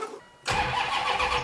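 A turbocharged police car with a 550-plus horsepower engine, boosted by a jump box, cranks briefly and then catches, settling into a loud, close, rough idle.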